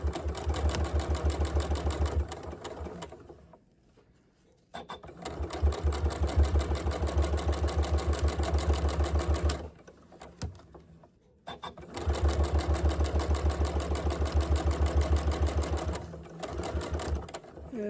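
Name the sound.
sewing machine stitching a zipper pouch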